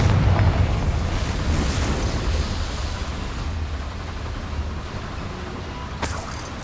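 Confringo blasting spell explosions in Hogwarts Legacy, a loud rumbling boom that swells at the start and decays into a long, dense roar, with a sharper burst near the end.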